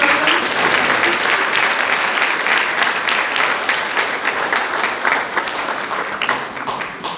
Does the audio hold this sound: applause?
yes